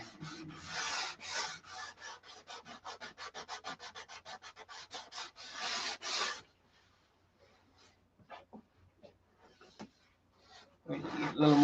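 Quick back-and-forth sanding strokes rasp over a wooden Viper model for several seconds, then stop, leaving a quiet gap with a few faint taps before a loud rub returns at the end.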